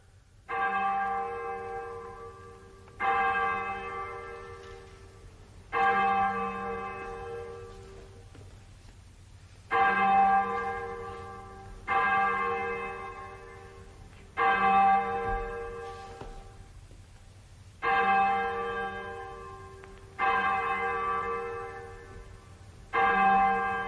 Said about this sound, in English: Hezekiah, sound the 9 Tailors.